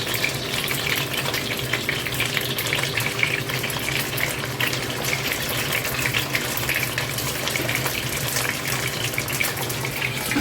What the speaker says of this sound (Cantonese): 跟住放埋啲排骨落去炸